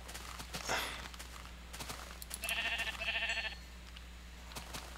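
Minecraft sheep bleating in two short wavering bursts close together, over a steady low game hum with faint footstep-like clicks.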